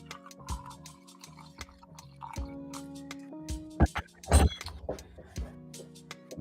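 Water dripping and trickling through coffee grounds in a pour-over filter, close and irregular drips with a few louder splashes, under quiet background hum and some faint talk.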